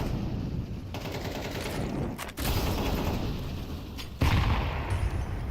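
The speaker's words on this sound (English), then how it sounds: "You throw that molly down at the red box and then throw the nade right behind them as they're backing" In a Counter-Strike match, a grenade is thrown after a molotov amid dense gunfire and bursts. Sharp cracks and booms rise over a continuous roar of battle.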